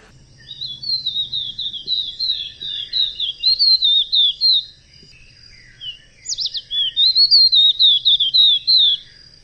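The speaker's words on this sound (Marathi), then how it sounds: "तो अगदी चिमणीपेक्षा लहान पण सुंदर पक्षी आहे आणि खूप नाजूक गातो." A tiny songbird, smaller than a sparrow, sings delicately at dawn in clear, high, rapid warbling phrases, two long bursts separated by a short pause, close and distinct over a quiet background.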